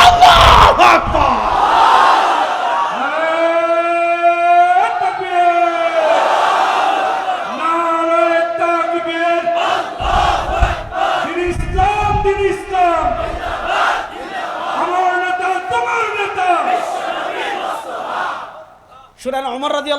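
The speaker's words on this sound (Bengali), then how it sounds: "মুমিনের ঈমান দীপ্ত স্লোগান হবে আল্লাহু আকবার" A large crowd chants the slogan Allahu Akbar in loud, drawn-out unison calls, repeated in waves with sustained voices.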